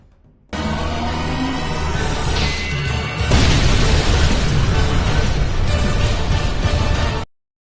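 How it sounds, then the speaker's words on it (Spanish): Animated explosion from special fairy-fighting dynamite: a sudden loud blast jumps in and surges into a bigger roaring, crashing detonation that rumbles steadily, then cuts off abruptly. "provocando así una gran explosión que acaba con todo lo que hay alrededor"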